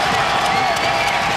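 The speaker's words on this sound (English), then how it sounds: "Crowd is loud here at Heping Gymnasium." A loud basketball crowd at Heping Gymnasium roars steadily during a playoff game between the Taoyuan Taiwan Beer Leopards and the New Taipei Kings, a dense, unbroken wash of cheering and shouting.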